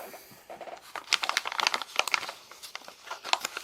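A sealed plastic bag holding a Kubey KU233C micarta-handled knife crinkles and crackles in irregular bursts, close and fairly loud, with no talking.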